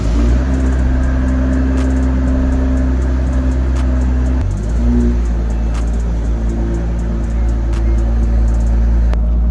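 A big-turbo Toyota Supra engine drones loudly and steadily while cruising on a test drive, with a deep rumble that shifts in pitch about halfway through as the car changes gear.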